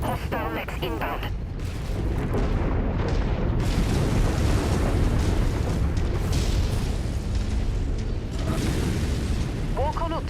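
Missile explosions from the MechWarrior 5: Mercenaries video game, a dense, continuous roar of loud booms and rumbling blasts that fills the whole stretch, with brief chirping electronic alerts at the edges.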